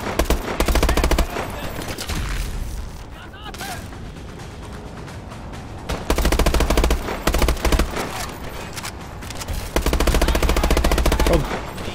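Automatic gunfire in the video game Call of Duty Advanced Warfare, with loud sustained bursts at the start and again in the second half, and busier mixed combat sound between them.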